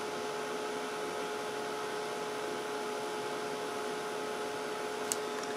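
A heat tool blows on a gypsum piece to dry it, giving a steady, faint whirring hiss with a constant tonal hum that runs unchanged throughout.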